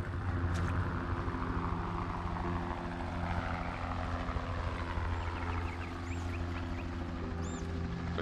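A helicopter flying overhead in the video game A Quiet Place: The Road Ahead, a steady droning rotor and engine hum that stays fairly loud throughout, heard alone without talk.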